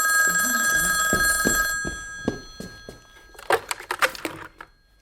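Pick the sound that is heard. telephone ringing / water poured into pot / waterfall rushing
telephone ringing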